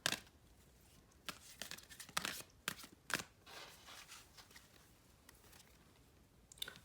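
Soft, irregular papery flicks and riffles of oracle cards being shuffled, quiet and close, in short bursts with brief pauses.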